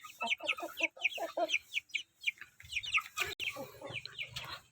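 Several free-range village chickens crossed with large Bangkok fighting-breed chickens cluck in quick, overlapping bursts close by, a busy run of short calls with faint rustling underneath.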